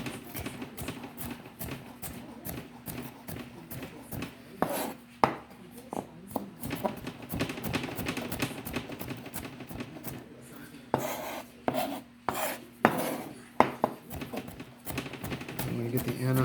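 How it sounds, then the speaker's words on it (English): A knife chops Anaheim peppers finely for guacamole, making quick, irregular taps on a cutting board in close bursts, with a person talking over much of it. "I'm going to get the Anaheim peppers finely cut as possible"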